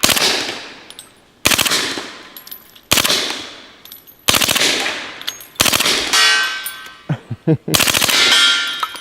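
Bursts of suppressed MP5 gunfire ring off a steel ram target outdoors: five or six rapid strings, each ending in sharp metallic clangs that decay over about a second, followed by a few scattered single pings.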